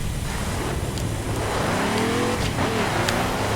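A RUF RT35 race car in The Crew accelerates hard through its gears, the loud engine climbing in pitch with each upshift, close and continuous with no talk over it.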